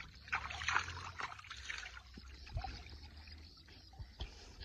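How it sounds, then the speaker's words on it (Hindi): Floodwater from a flooded village running fast through a channel, a trickling, gurgling flow with small splashes, moderately close and fairly quiet. "ये देखें जी आप, ये सारा पानी गुजर के जा रहा है जी इसमें।"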